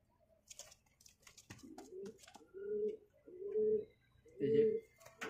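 A male pigeon coos up close, four soft rounded coos in a slow even rhythm, with some faint background noise and brief scuffling before the coos begin.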